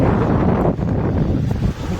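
A strong, steady roar of wind buffets the microphone for the whole two seconds, dense and close, with no voices, while bottle fishing for tilapia.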